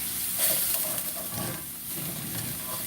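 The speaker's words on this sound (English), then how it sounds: "pour 1/3 cup of champagne vinegar and 1/3 of a cup of red wine vinegar into the pan, and you're going to deglaze it off" Champagne vinegar and red wine vinegar hitting a hot pan to deglaze it: a loud, continuous hiss and steamy sizzle held steady for about three seconds, close up, with no voices.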